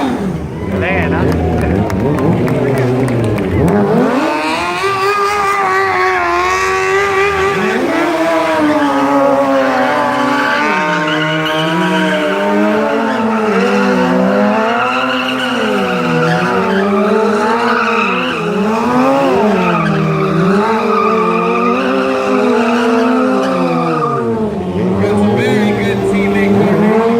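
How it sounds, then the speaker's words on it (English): Motorcycle stunt riders at the Long Beach Grand Prix 2017 doing wheelies in a tight space, engines revving loud and continuous with rising and falling pitch, tires squealing, an announcer talking over it with crowd noise. "Difficult it is to contain these wheelies controlled in this small space."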